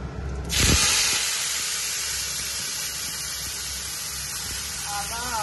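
Dried chilli, bay leaf and cumin dropped into hot oil, a sudden loud sizzle and spray that settles into a steady hiss.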